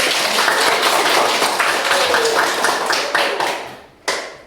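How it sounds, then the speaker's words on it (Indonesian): A classroom full of students claps together in steady broadband applause for several seconds, loud and continuous, trailing off briefly before one last burst of clapping at the end. "Bagus, aplaus dulu."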